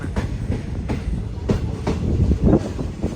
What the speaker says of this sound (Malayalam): കർവാർ റെയിൽവേ സ്റ്റേഷനിലേക്ക് ഇതാ നമ്മുടെ ട്രെയിൻ എത്തിക്കൊണ്ടിരിക്കുകയാണ്.